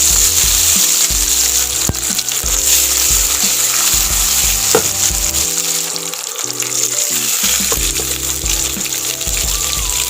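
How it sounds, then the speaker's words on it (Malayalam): Mustard seeds, dried red chillies and curry leaves sizzle and crackle steadily in hot oil for a Central Travancore astram curry, loud and close, with a few sharp pops and clinks. "ഒരു കറിവേപ്പില ഇട്ടു."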